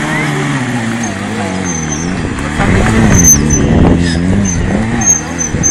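Motorcycle engine at a stunt show on a closed road, loud and close, revving and rising in repeated surges as the rider maneuvers, with crowd noise and voices mixed in.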